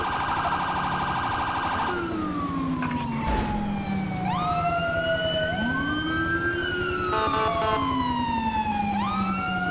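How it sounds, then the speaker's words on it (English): A police car siren in the GTA 5 video game, modeled on a Kentucky State Police cruiser in a city pursuit, wails loudly and continuously, sweeping up and down with two overlapping siren tones. "we're going to do dual siren"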